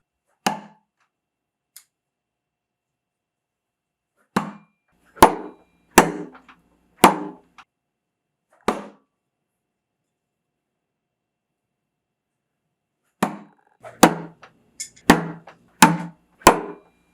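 SOG Fling throwing knives thrown with an instinctive half-spin and striking a target, heard as sharp individual thunks spaced a second or two apart, in two clusters separated by a long quiet gap.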